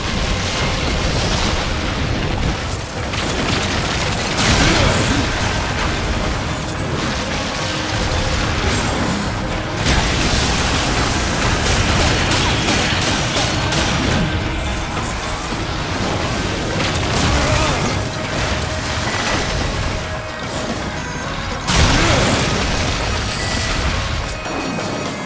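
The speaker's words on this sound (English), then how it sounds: "This Death Blossom explosion thing first." Death Blossom explosion in the video game Darksiders 2: dense, loud booming blasts and crashing impacts rolling almost without pause over a steady wall of game noise, with a few sharper bursts standing out.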